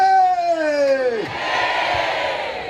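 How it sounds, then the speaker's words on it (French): A church congregation shouts praise together, a sustained falling cry that breaks into a loud, dense crowd roar and cheering. "À nous crier béni soit l'Éternel."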